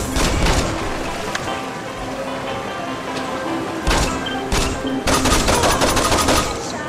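Rapid bursts of gunfire rattle near and loud in Saints Row 2, with the shots coming in dense clusters and crackling clattering volleys over an open outdoor ambience.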